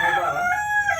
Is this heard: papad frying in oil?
no